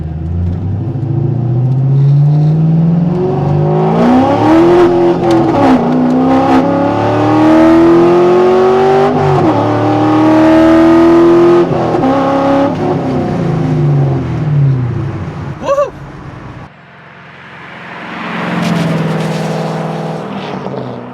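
A C5 Corvette with long tube headers and a catless X pipe accelerates hard on a high-speed road, its loud exhaust note rising in pitch through the gears, dropping briefly at a shift, then climbing again up close.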